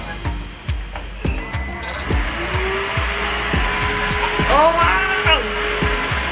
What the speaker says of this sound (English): It is the vacuum cleaner.